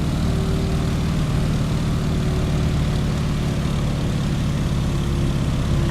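A propeller airplane engine in Microsoft Flight drones at cruise, throttle at 85% and propeller pulled back to 1900 RPM, a loud, steady, low rumbling hum with no break.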